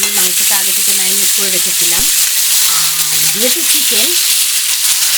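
Marinated chicken pieces are frying with potatoes in a pan for a red chicken curry, giving a steady, loud sizzle throughout, while someone talks over it.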